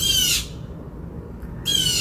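A small bird squawks in two bright, harsh bursts, one at the start and one near the end, close and fairly loud over a low steady room rumble.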